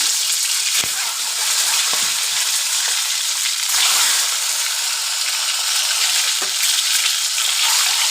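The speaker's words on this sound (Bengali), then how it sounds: "তো তেলটা গরম হয়ে গেছে, আমি এখন ডিমগুলো দিয়ে দিচ্ছি" Eggs frying in hot oil, a loud continuous crackling sizzle close by, with a few utensil knocks.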